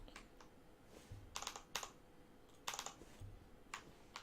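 Quick bursts of keystrokes on a computer keyboard, crisp and close, clustered in short runs separated by brief pauses.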